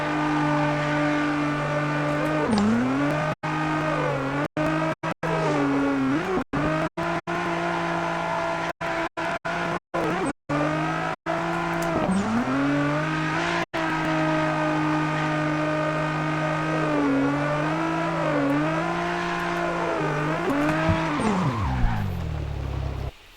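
Drift car at full throttle in the video game CarX Drift Racing, its engine screaming at high revs with rising and falling pitch, repeated dips on gear changes and tire squeal, loud and continuous with brief dropouts.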